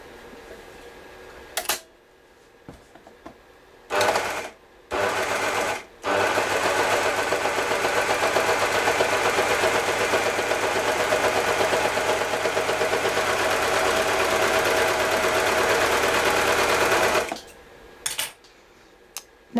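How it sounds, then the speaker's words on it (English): A Baby Lock Desire3 combination sewing machine runs an overlock stitch sample. A steady, dense mechanical whir and rattle continues for about thirteen seconds, with a few short clicks and bursts before it starts and after it stops. "we're ready to do our first sample"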